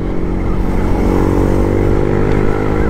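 A Yamaha MT-15 motorcycle engine runs loud and close on a short test ride, a steady buzzing drone that holds level throughout with no voices.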